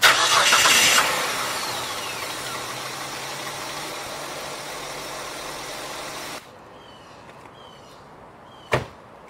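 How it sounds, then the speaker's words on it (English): A car engine cranks and catches after a jump start from a boost pack on a drained battery, roaring loud at first, then settling into a steady idle before dropping lower, with a sharp door-like clunk near the end. "started it right up using the same dead battery"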